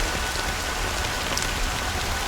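Steady, close rain pattering on surfaces in the video game Honkai Star Rail, a dense even hiss with no voices.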